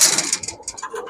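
Silver panky pigeons, a male and a full-silver female, giving soft, brief cooing calls that rise and fall over about a second, close by in a pigeon shop.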